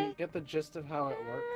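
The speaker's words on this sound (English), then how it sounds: "That's my cat." A pet cat meows in several short, close calls and then one drawn-out meow, while a person talks over it.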